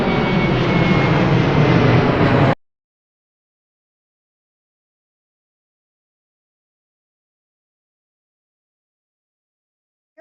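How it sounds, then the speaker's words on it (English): An airplane engine roars loudly as a broad, steady rumble for a couple of seconds, then cuts off to silence. "Or a sound of an airplane?"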